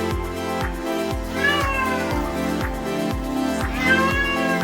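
A cat meowing repeatedly while being bathed, several drawn-out complaining cries close by over a steady rhythmic background noise, with no talking.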